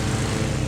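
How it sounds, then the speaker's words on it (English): A lawnmower engine runs in a yard, where it is being used to blow leaves. It gives a loud, steady, close drone throughout with no pauses. "I was actually using the lawnmower to blow the leaves off the yard"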